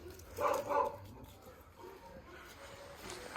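A dog gives two quick barks close by, followed by quieter yips against a soft background of ambient noise.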